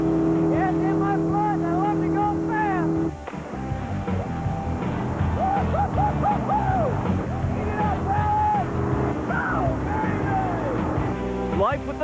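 Alan Pezo's Predator monster truck roars through an engine run at a Houston Astrodome monster truck event, a loud, busy motor drone with revving surges under continuous announcer-style talk.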